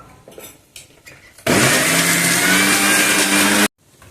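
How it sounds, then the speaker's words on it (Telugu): A mixer grinder grinds coconut chutney with coriander in one loud, close burst of about two seconds, whirring steadily at high speed before cutting off abruptly, with faint clatter before it starts. "కొంచెము కొత్తిమీర వేసి మరి కొద్దిసేపు గ్రైండ్ చేద్దాం"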